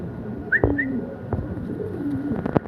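Soft pigeon coos repeat under a steady background hum, with a couple of brief higher whistling notes near the start.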